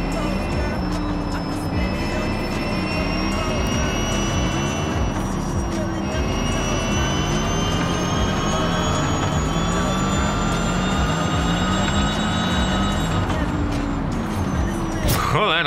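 A steady electric motor whine from an Xpeng P7 in Forza Horizon 5, with rising and falling tones, hums continuously, loud and close, with faint road noise underneath.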